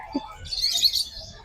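Faint high bird chirps twitter briefly over a low background murmur.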